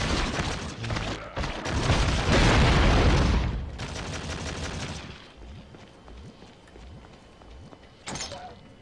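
Fallout: Brotherhood of Steel gunfire erupts in heavy rapid bursts and booms that build to a loud sustained barrage, then give way to fainter scattered shots and footsteps, with one last sharp report near the end.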